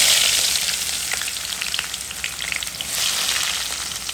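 Onions frying in a pan for prawn bhuna, a bright steady sizzle with some stirring, close and alone.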